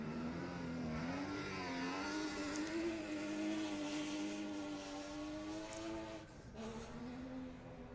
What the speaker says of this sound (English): It's got a bit of a bark to it, that car of Willie Hawes.